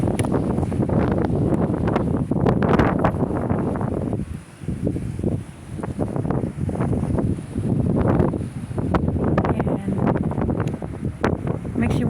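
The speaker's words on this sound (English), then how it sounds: "It's really windy." Strong wind buffets the microphone outdoors in the rain, a loud, constant roar with gusting surges and a short lull midway.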